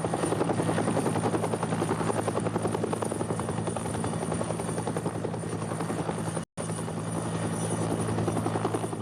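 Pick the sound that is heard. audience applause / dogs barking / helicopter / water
helicopter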